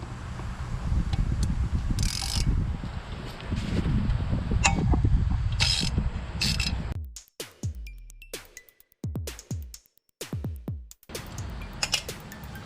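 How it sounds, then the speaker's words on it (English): A screw removed from a Chevrolet Tahoe wheel hub with a T30 Torx bit, with a steady mechanical whir at first, then a string of sharp, intermittent ratcheting clicks and metallic ticks. "I'm gonna use a T30 torque bit to get the screw out here."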